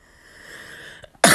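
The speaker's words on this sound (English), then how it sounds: "Sorry about the cough thing." One loud, abrupt cough bursts out close to the microphone at the very end, following a quiet stretch with a faint hum and a couple of small throat noises.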